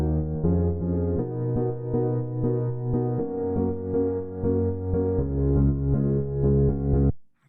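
Muted keyboard patch with filter cutoffs set, played live through Gig Performer software: a steady sequence of soft, dark sustained chords with rounded tone and little brightness, continuing evenly for about seven seconds before stopping abruptly.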